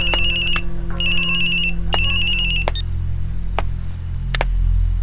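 A phone ringtone plays in repeated electronic bursts over a steady low hum with a few sharp clicks, loud and close, with no voices.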